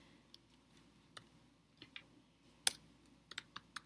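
Irregular clatter of keys on a computer keyboard, scattered taps and small bursts of quick keystrokes, close and fairly quiet with no talking.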